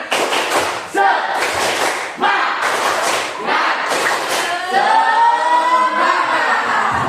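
An Indonesian classroom group does tepuk semangat rhythmic clapping, several loud patterned bursts of claps with voices chanting along, closing in a drawn-out group chant.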